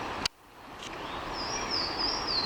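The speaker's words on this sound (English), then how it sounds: "listen to them birds" Birds sing at an outdoor campsite on a motorcycle camping trip, a thin high warbling song carrying steadily over soft ambient background after a brief knock at the start.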